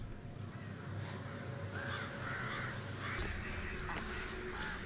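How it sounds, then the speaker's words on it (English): Crows cawing in short, repeated calls over a steady low background rumble, fairly distant and moderately faint, with no speech. "No, they're not bats, they're crows."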